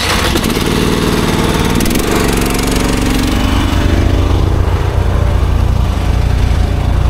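Engine of a log splitter's hydraulic unit starting and running, a loud, close, rough drone with sputtering at first, then a steady idle rumble.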